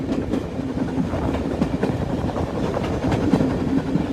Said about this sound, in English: Listen to that chugging of the steam.